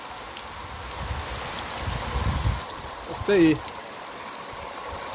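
Rushing floodwater runoff after heavy rain in the Bahia sertão, a steady broadband wash of flowing water heard close throughout, with people talking over it.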